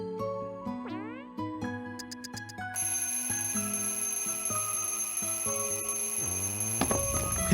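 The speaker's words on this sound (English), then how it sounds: "clock, the alarm clock." Alarm clock ringing in the video game Kirby's Epic Yarn, a bright chiming jingle of rising and falling electronic tones that swells into a sustained, rapidly repeating ring, loud and alone with no talking.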